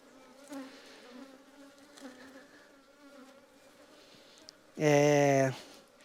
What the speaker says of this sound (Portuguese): Eu tô sentindo essas abelhas assim bem agressivas, mas vamos lá, vamos ver como elas estão.